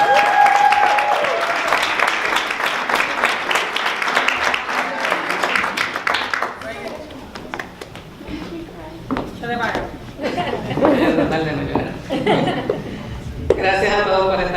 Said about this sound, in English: let's give a big round of applause to Jet's mom